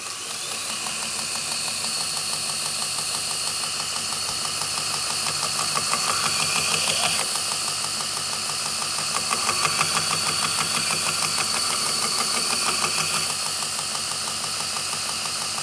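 A Damascus integral chef's knife being ground on a belt grinder with a 180-grit belt: a steady, loud mechanical whir with a gritty abrasive hiss that swells and eases slightly as passes are made, with no speech.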